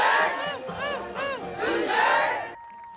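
A crowd at a college softball game, Indiana hosting Minnesota in Bloomington, cheers and yells loudly in a dense, sustained roar that cuts off abruptly near the end.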